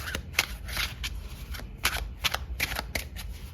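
Tarot and oracle cards are shuffled by hand at close range, giving quick repeated riffling bursts in an irregular rhythm with soft flicks between them.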